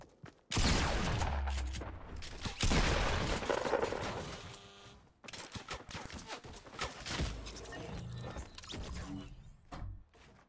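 Gunfire in a Fortnite match, loud bursts of rapid shots and sharp cracks in clusters, with brief pauses between volleys and quieter impacts toward the end.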